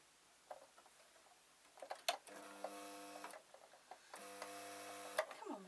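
A domestic sewing machine stitches pieces of fur together in two short bursts of steady mechanical whirring, separated by a brief pause, with small clicks and handling noises between runs. The machine is close and moderately loud.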